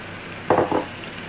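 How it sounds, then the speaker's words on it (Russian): Raw rice poured into a pot for chicken pilaf makes a short rushing patter in two quick bursts, close and clear in an otherwise quiet kitchen. "И начинаем высыпать рис."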